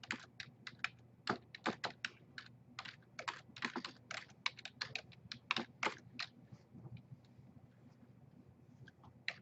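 Computer keyboard typing, bursts of quick crisp keystrokes in irregular runs close to the microphone, thinning to a few scattered taps toward the end.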